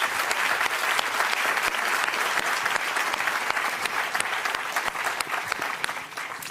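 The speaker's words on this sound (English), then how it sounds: "With your applause, would you please kindly thank our wonderful panelists for a great discussion." Sustained applause from a large audience at the NATO summit in Vilnius, Lithuania, thanking a panel, dense and steady clapping that fills the whole stretch and eases slightly toward the end.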